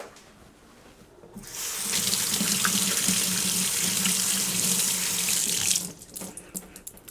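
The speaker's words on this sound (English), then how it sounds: "Let me wash it quickly." A fresh lemon is rinsed under a running kitchen tap, with a close, steady rush of water lasting several seconds before it stops, leaving small handling clicks.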